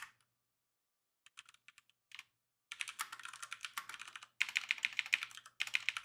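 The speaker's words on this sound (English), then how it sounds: "So I don't know if you could hear my keyboard. Maybe it's some clacky ASMR." Clacky computer keyboard typing, near and crisp, beginning with a few scattered keystrokes after a pause and then breaking into dense bursts of rapid clicking separated by brief gaps.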